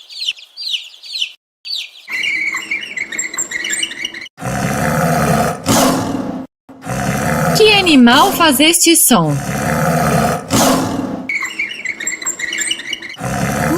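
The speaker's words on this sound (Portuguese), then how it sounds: "Muito bem, um tigre." A tiger roar, loud and broad, in several heavy bursts, preceded and followed by clucking and with a person speaking in between.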